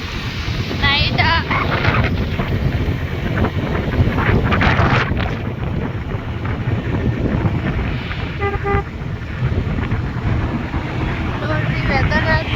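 Strong wind buffets the microphone outdoors in loud, gusty rumbling bursts throughout, with faint horn-like toots and traffic sounds underneath.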